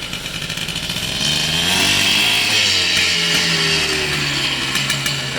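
A Yamaha IT 490 dirt bike engine runs for the first time in three years, loud and close. It idles roughly, then climbs into a sustained, buzzing rev that holds steady.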